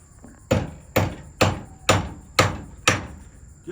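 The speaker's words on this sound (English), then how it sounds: "I'll hit it about 4 good times with my hammer and it'll have a head." Six sharp metallic hammer blows on a hot nail, forming its head in a blacksmith's shop, land at a steady rhythm, each ringing briefly before the next, close and loud with no talking.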